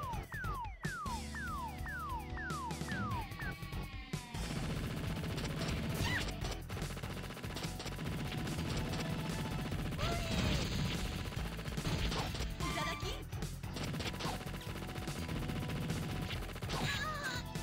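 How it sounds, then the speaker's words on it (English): Cannon Spike on the Sega Dreamcast, a dense barrage of gunfire, crashes and blasts with a booming explosion, loud and continuous after a brief burst of descending electronic tones. "And that's a huge explosion."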